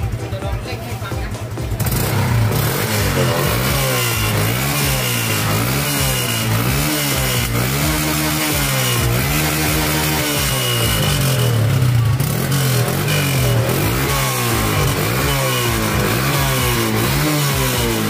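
A motorcycle fitted with an aftermarket exhaust pipe idles steadily, then blips through repeated throttle revs that rise and fall in a loud, close, continuous engine drone with no talk over it.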